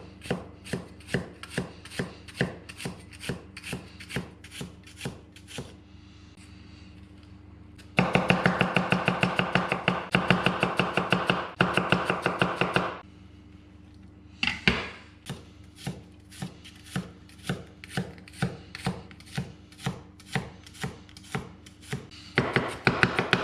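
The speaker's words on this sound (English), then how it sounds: "I'm going to put a whole finely diced shallot into this" A whole shallot being finely diced with a knife on a cutting board for a coalfish dish: steady, crisp chops in an even rhythm, broken by a denser, louder burst of rapid cutting in the middle, with no talking.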